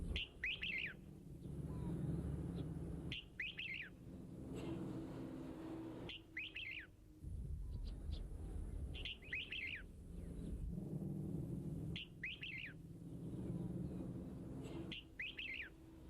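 Repeated short dove coos in brief bursts every couple of seconds, fairly close, over a low steady background rumble, in Southern Thailand.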